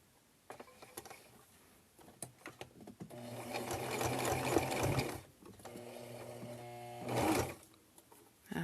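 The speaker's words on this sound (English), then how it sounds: "I'm just going to sew this straight across to sew it closed" A domestic sewing machine stitches a straight seam across a pinned fabric heating pad, running in a steady whirring burst for a couple of seconds, pausing, then another shorter run, with small clicks and handling sounds between.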